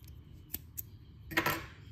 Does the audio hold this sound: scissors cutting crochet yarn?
yes